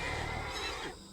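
A horse whinnies in the video game RimWorld, a loud, close, rough call that drops off abruptly into quiet.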